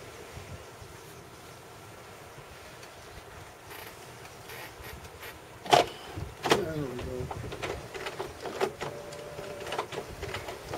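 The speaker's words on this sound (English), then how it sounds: "now it starts printing because we got a picture" HP Deskjet D4160 inkjet printer printing a picture, starting with quiet background hum before mechanical whirs, clicks and sliding carriage sweeps set in about halfway through and continue at moderate loudness.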